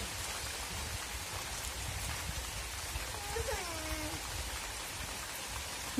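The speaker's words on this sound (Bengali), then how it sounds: "বৃষ্টি এসে পড়লো," Rain falls steadily over a rural Bangladeshi village yard, a continuous close hiss of drops on surfaces with a faint bird call rising briefly in the middle.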